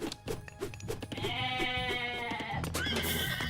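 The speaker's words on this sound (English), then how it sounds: "Blue has good amount of goats here." Goats bleat repeatedly in the Age of Mythology video game, several overlapping nasal cries rising over a busy background of game clicks and ambient sounds, fairly close and steady, without talk.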